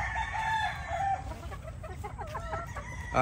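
Yellow-legged pullets clucking and calling in a poultry pen, busy overlapping clucks and short warbling calls throughout, close and fairly loud, with no voices.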